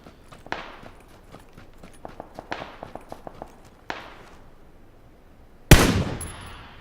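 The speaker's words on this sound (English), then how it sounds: "Don't know why I decided to shoot at this guy, honestly." Gunfire in the video game PUBG Battlegrounds during a solo match: a series of sharp, close shots in an uneven rhythm, with a louder, heavier blast near the end, and no talk over it.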